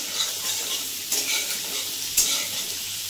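Potatoes mixed with salt and turmeric fry in a pan for a vegetarian poppy-seed potato curry, giving a steady close sizzle with scraping stirs near one and two seconds.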